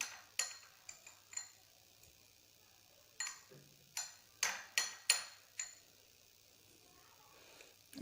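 A spoon clinks against a bowl while chicken is mixed with ginger garlic paste, soy sauce and oil, making about a dozen sharp, close taps in irregular bursts against a quiet background.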